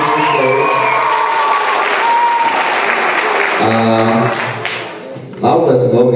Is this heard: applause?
yes